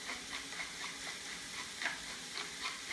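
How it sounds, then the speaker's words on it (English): Vegetables seasoned with kosher salt and cracked pepper sautéing in a pan for a vegan chili, a faint, steady sizzle with soft ticking crackles throughout. "I'm gonna start to saute these about 5 or 6 minutes till they start to soften a little bit"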